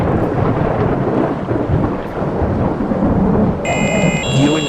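Heavy rain pours down in an alleyway under a deep, continuous rumble of thunder, loud and close, while thin electronic beeps sound near the end.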